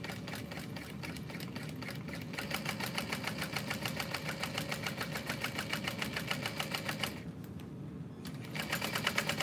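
A sewing machine stitches a curved seam at stitch length 4 on a rose handbag, its rapid needle chatter running steadily, with a brief pause and a back-stitch burst near the end.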